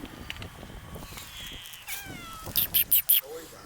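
Cats at an abandoned house in Japan meow several times in quick succession, high and fairly close, after a stretch of people talking over ambient noise.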